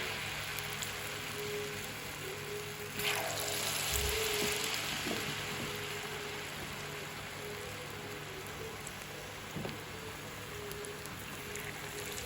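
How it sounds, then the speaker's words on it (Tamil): Onion bajji fry in hot oil, a steady close crackle and sizzle that continues evenly with a few small pops and clicks, and no voices. "இப்போ நாங்கள் வெங்காயம் பொரிஞ்சிட்டு எடுத்துக்கொள்ள போகிறோம்"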